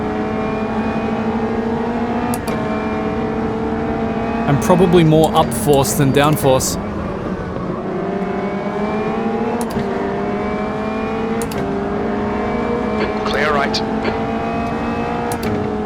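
A Formula 1 V12 race car in Automobilista 2 screams through the gears on the historic Adelaide circuit, its engine revving up and down with rising and falling pitch, while someone talks over it.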